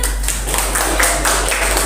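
A classroom of students claps together in a dense, loud burst of hands close by, the rhythm uneven and filling the whole stretch without talk.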